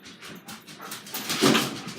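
A pet dog whimpers and whines softly in a few short, high, breathy bursts, close by in a quiet room.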